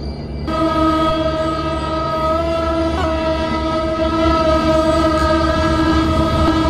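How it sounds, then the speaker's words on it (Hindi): Train departing in Train Simulator Classic, a loud steady horn-like tone that holds for several seconds over a low rumble of rolling stock, with no talking. "वो ट्रेन यहाँ से जा रही है"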